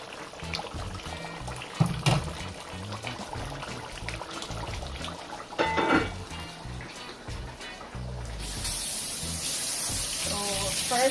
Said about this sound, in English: So first I rinsed the top of the can.